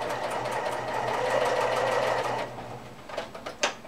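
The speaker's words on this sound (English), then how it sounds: "I'm going to back stitch" A sewing machine runs steadily while back stitching quilt binding, a loud, close continuous whirring drone that stops partway through, followed by a few scattered mechanical clicks and knocks.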